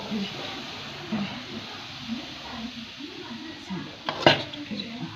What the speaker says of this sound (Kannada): ಇವಾಗ ತುಪ್ಪ ಹಾಕಿ ಮಿಕ್ಸ್ ಮಾಡ್ತಾಯಿದ್ದೀನಿ